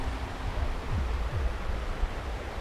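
River water flows and rushes steadily at a riverside, heard as a continuous broadband wash with a low rumble, close and fairly loud, with no voices.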